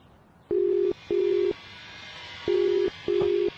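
A telephone busy signal after a call is hung up: four evenly spaced, steady tone pulses, each about half a second long, with brief silences between them and faint background hiss.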